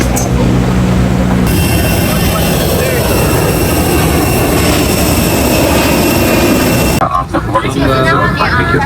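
A jet airliner at Guangzhou airport produces a steady, loud engine roar during boarding, with crowd chatter and voices underneath, until the sound drops off near the end.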